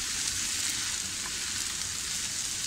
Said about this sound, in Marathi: पण त्यात थोडी मी कोथिंबीर टाकते. ती सुद्धा आपण व्यवस्थित अशी परतून घेऊया.